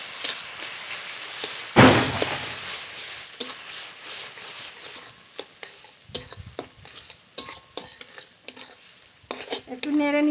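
A utensil stirs poppy seed paste curry in a cooking pan, with scraping clinks and soft sizzling in an irregular rhythm, close and fairly loud.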